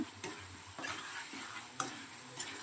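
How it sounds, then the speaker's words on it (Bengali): Food, including potatoes, sautéing in a covered pan over a low gas flame gives a faint, soft sizzle, broken by a few light clicks and scrapes from stirring or the lid. "এবার এটাকে আমি ঢেকে ঢেকে কিছু সময় ভালো করে কষিয়ে নেব।"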